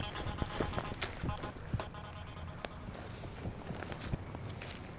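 Footsteps come up a trail at Hookman Hill Cemetery in Peru, Indiana, at night: faint, irregular thuds and scuffs at a distance, with low voices murmuring now and then.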